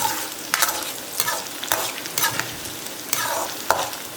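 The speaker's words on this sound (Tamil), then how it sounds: "இது கூடவே நான் இஞ்சி பூண்டும் சேர்த்துக்கிறேன் வெங்காயம் நல்லா வதங்கணும்" Onions with ginger and garlic sauté in a pan for a potato and pea masala, a close sizzle with repeated rhythmic spatula scrapes and stirring strokes rising above the hiss.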